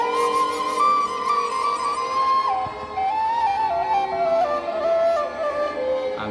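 A Minang bansi, a traditional bamboo-type flute, plays a pelayaran opening: a steady, clear reedy melody with sustained tones and gliding pitch steps, close and continuous throughout with no talking.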